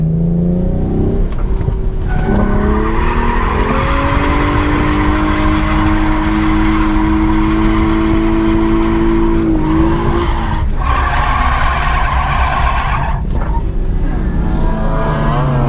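A stock Nissan 350Z engine revs hard and shifts pitch as it enters a 360-degree drift, with tires squealing loudly throughout, close and continuous.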